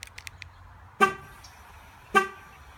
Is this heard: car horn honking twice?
yes